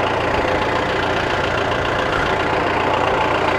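A tractor engine runs steadily throughout a test ride, a loud continuous rumble close by that holds an even level with no talk over it.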